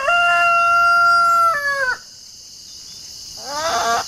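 An Araucana rooster crows loudly and close by in one long, steady crow that breaks off near the end, followed after a short pause by the start of a second crow.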